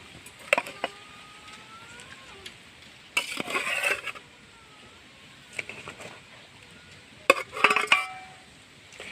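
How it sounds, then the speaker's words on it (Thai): Tilapia pieces dropped into a pot of boiling sour soup outdoors in the morning, giving a few short splashing clatters with metal pot knocks, separated by quiet stretches where birds chirp faintly in the background. "งามเดือดแล้วครับ ใส่ปลาลงไปครับ"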